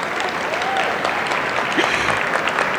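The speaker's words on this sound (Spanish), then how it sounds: "Este es el momento en que nos aplauden a Charlie y a mí" Audience clapping after a conference talk on cannabis businesses and franchising, a steady, dense wash of many hands filling the hall for the whole stretch, with no voices over it.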